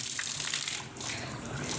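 Water gushes steadily from a pipe while a cow is bathed outdoors on a village farm, a close, constant hissing splash with no pauses.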